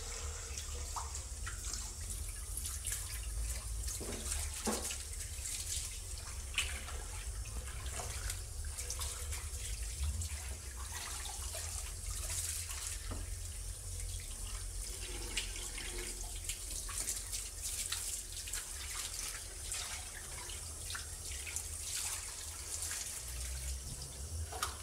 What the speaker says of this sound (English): Make sure you give the area a good rinse down.